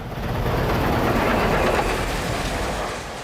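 A Southern Pacific Daylight steam passenger train rolls past with a steady, loud broadband roar and rhythmic rail clatter, continuous and close throughout.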